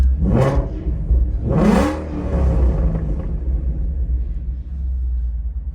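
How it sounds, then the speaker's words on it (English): A 2017 Ford Mustang GT exhaust revs sharply twice, rising and falling, then settles into a steady low idle rumble close by. "Exhaust sounds pretty good."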